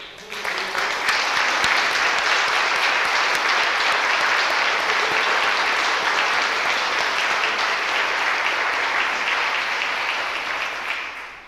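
An audience at a municipal council meeting in Saguenay breaks into sustained applause: dense, even clapping from many hands that holds steady for about eleven seconds before tapering off.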